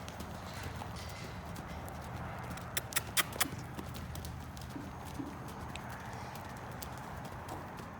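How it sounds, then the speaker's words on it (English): A horse trotting during a gait demonstration, its hooves giving a short run of faint, distant clip-clop beats over a steady background hiss. "He's just trying to extend his trot because he's very lazy."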